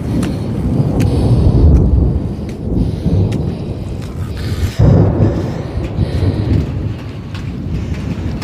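Thunder rumbles over the Uttarakhand mountains during a sudden storm with rain, a loud continuous low roll that swells and cracks again near the middle, with rain hissing steadily underneath.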